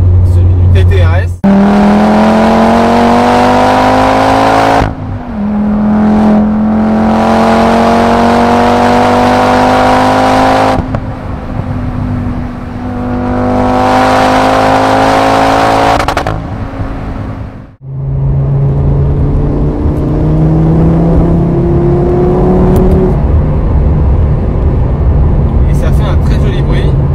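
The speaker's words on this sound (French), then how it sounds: "pas besoin justement d'artifice, c'est vraiment un 5 cylindres sous le capot" An Oettinger Golf 500R with a 2.5-litre five-cylinder engine accelerating hard through several gears, each rising pull loud and close, cut by brief drops at the shifts, with someone talking over the engine.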